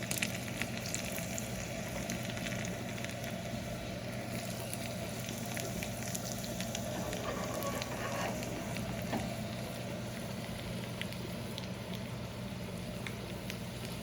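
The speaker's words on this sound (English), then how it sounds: "Cumin is frying in the oil, so I add my garlic." Steady, crackling sizzle of cumin and garlic frying in about 3 tablespoons of hot oil for dhal, continuous and fairly quiet with occasional small pops and no talking.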